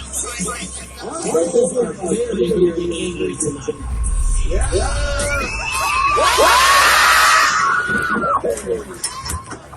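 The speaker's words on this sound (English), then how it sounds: "the camera is dropped as the audience starts screaming and presumably moves out of the bull's path" Crowd at a bull event screaming and shrieking in panic as the bull charges into the stands, rising to a loud, chaotic peak of overlapping high-pitched cries and shouts mixed with rumbling handling noise.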